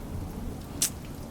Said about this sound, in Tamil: இங்க மழையா இருக்குங்க